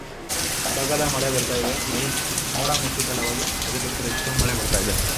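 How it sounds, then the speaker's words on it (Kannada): Steady rain patters across a surface throughout, a dense hiss with faint bird calls in the background and some voices murmuring underneath. "ಏನು ಮಳೆ ಹಿಂಗೆ ಬರ್ತಿದೆ?"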